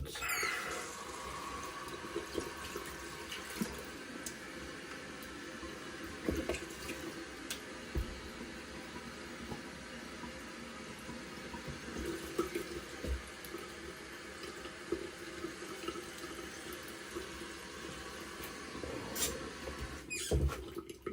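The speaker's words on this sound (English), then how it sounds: "Now my cold water rinse." Cold tap water pours continuously while a man rinses his head after shaving, close splashing with scattered bumps and louder splashes, no voices over it.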